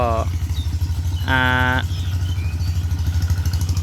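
A small engine of a walking tractor chugs steadily in a low rhythmic putter while tilling a flooded rice field, with someone talking briefly over it.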